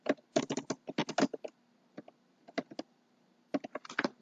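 Quick, close taps on a computer keyboard come in irregular runs, a flurry of clicks, a few sparse strokes, a pause, then another burst, over a low steady hum.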